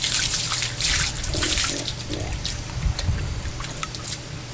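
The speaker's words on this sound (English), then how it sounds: "we keep running the water in it until the water runs off clear" Water runs through sand as it is rinsed, a continuous splashing trickle and pour with gurgling surges, fairly close and loud throughout.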